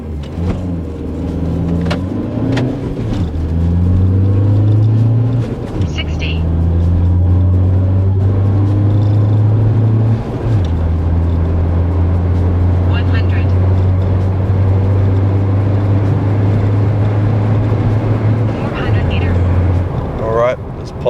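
A car fitted with a new exhaust pulls away on a drag strip run, a loud low engine drone climbing through several gear changes over about twenty seconds, with brief voices near the start and end.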